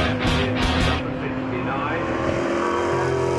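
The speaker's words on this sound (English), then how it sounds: "as we see the Mosler powering down towards the Hanger Straight" A Mosler race car powers down the Hangar Straight at Silverstone during a 2012 Britcar Championship endurance race, its engine a loud, steady drone that rises and holds, with commentary over it.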